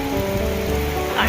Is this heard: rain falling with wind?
yes